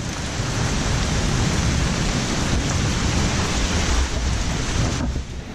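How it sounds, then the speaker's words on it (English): Heavy storm rain driven by strong wind, a dense, loud, unbroken roar of downpour and gusts filling the whole stretch with no voices over it. "Real strong wind, heavy rain."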